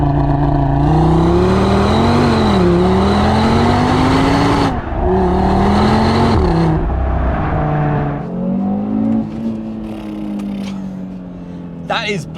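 A 2021 Audi TT RS with its 2.5-litre five-cylinder engine revs and pulls hard, its rising and falling engine note loud and close. Two strong bursts of acceleration are followed by a calmer stretch, and someone talks over the engine.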